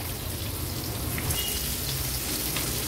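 Wakti fish fry in a pan over a medium flame, giving off a steady, dense sizzle that runs evenly for the whole stretch with no voices.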